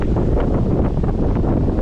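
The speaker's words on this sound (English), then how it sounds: "It is very windy out right now." Loud, close wind buffeting batters a GoPro Hero 10 Black camera microphone outdoors, a dense rumbling roar with rapid fluttering gusts and no one speaking.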